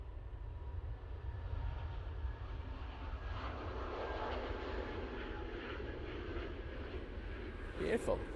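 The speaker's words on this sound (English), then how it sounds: "we've got this Jet2 A321neo now on the roll" A Jet2 Airbus A321neo rolling down the runway for takeoff at Manchester Airport, a distant steady roar of jet engines building gradually, with someone talking over it.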